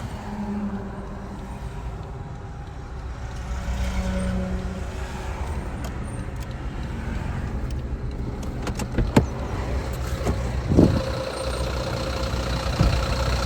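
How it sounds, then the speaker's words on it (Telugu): A BMW car travels down a highway behind an uncovered truck carrying gravel, with a constant engine and road rumble throughout and a few sharp knocks toward the end. "సో ఈ ట్రక్ కంకర్ క్యారీ చేస్తుంది"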